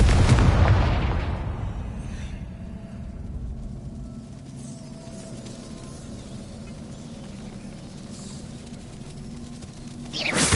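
Confringo fire spell blasting in the Hogwarts Legacy video game: a loud, close explosive burst opens and fades into a low rumbling ambience, with another sharp blast arriving at the very end.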